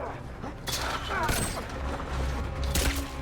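Pistol shots ring out in the video game Rogue Elements, a few sharp reports amid game sound effects and overlapping voices in a short busy scene.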